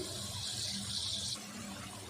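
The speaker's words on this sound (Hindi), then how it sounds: "अब 1 कप पानी का डाल देंगे।" A cup of water pours into a pan of masala fish curry in a steady splashing hiss for just over a second, then stops, leaving a low background rumble.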